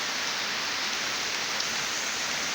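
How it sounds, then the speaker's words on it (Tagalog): Heavy rain pours down steadily over a rural planting area after months of drought, a dense, even hiss with no breaks, close and uniform. "Yan, lakas ng tubig, ay lakas ng ulan, no?"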